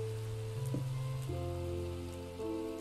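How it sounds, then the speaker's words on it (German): Rain falling in the Minecraft VR video game, a steady soft patter on surfaces under a droning mix of game sounds that shift in pitch. "es hat nur geregnet"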